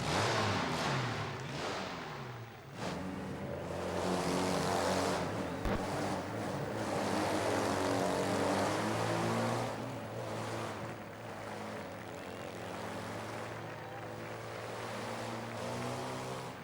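Motorcycles race around a travelling fairground Wall of Death motordrome, their engines roaring as a loud, sustained, wavering drone that swells and dips as the riders circle.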